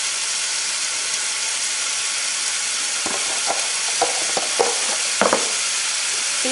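Pork frying in a pan with a little sugar added, a steady loud sizzle and hiss running throughout, with a few short scraping stir strokes of the utensil toward the end.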